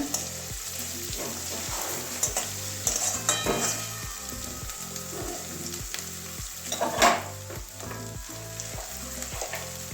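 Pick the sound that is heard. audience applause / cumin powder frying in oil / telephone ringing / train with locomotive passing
cumin powder frying in oil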